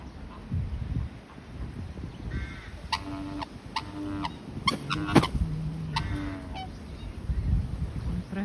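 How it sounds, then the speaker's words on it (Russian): Several loud honking calls from a black swan, spaced irregularly over a few seconds, with some breathy wind noise in the background. "Хотите услышать лебединую песню"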